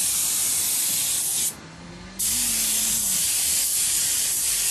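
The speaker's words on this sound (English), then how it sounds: "So now Darrel's on the spraying." A spray gun hisses steadily as it lays a fine, even finish coat onto a Bentley leather seat, with one brief pause partway before the loud, continuous spray resumes.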